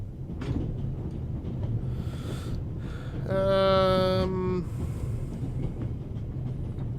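A train on the Orient Express in The Raven gives a steady low rumble throughout, with a brief harmonic tone like a whistle or brake squeal rising above it midway and faint voices under the rumble.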